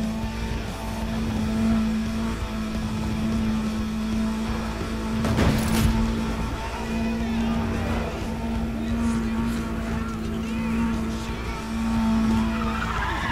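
In the racing game Need for Speed Undercover, a car engine drones steadily throughout with tyre skids and squeals layered on top and a sharp burst around the middle, while someone talks over it.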